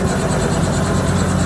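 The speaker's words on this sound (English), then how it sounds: "Mozzie, we heard you came to Phoenix in a helicopter" A steady, loud rotor-and-engine drone with a deep low rumble, constant throughout with no voices.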